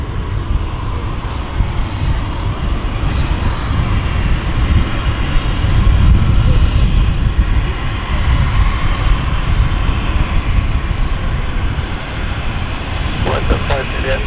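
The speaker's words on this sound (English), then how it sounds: "Always happens right at the minute that an aircraft is turning up." An aircraft arriving at London City Airport, a loud steady engine roar that swells slightly at its middle and stays close throughout, with people talking over it.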